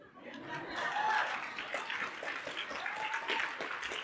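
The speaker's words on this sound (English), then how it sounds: "That's a level 5 applause." An audience claps at a community conference session, sustained and moderately even applause at a low level, with a few chuckles and faint voices mixed in.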